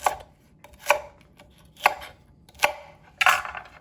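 Knife chopping celery with oblique cuts on a board, five sharp, separate thuds spaced roughly a second apart, close and clear over a quiet background.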